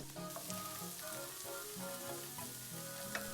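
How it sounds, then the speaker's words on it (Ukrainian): Chopped onion and garlic sizzling in a hot pan, a steady crackle with occasional stirring scrapes, close and fairly quiet. "Закидаємо нарізану цибулю і чесник. Перемішуючи, смажимо 3 хвилини."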